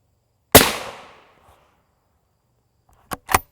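A single loud rifle shot hits an armor plate in a special rifle threat test, a sharp close blast with a decaying ring, followed a few seconds later by two quick fainter impacts.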